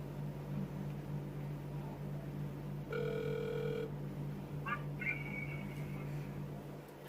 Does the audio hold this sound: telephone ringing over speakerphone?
yes